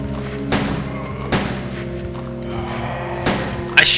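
Gunfire in the Resident Evil 2 video game while fighting zombies: four sharp, loud shots spaced irregularly over a steady low background drone, with no talking.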